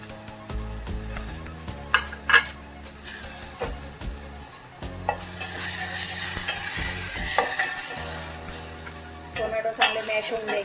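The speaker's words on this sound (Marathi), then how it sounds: "तर चांगले परतायचे तेलामध्ये।" Garlic, coconut, chili and tomato sautéing in oil for Maharashtrian varan, a soft continuous sizzle broken by repeated scraping stirs of a spoon against the pan, with occasional clinks.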